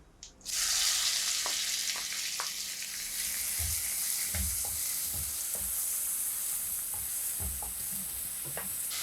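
Two medium onions, finely chopped, hit hot oil with a sudden loud sizzle that settles into steady frying, with occasional scrapes and stirs of a spoon in the pan.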